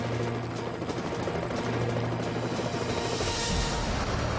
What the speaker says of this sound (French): Un hélicoptère de sauvetage des gardes-côtes américains survole une zone ennemie